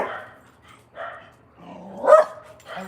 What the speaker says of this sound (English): my dogs just went crazy